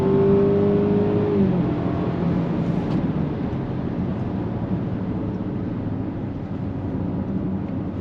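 A Range Rover Velar engine of 247 horsepower roars steadily at full throttle, a loud continuous drone with a brief rising whine at the start, close and sustained throughout.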